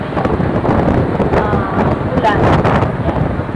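Typhoon wind gusts roar and buffet against the microphone in a continuous loud rush, rising and falling in strength through the whole stretch.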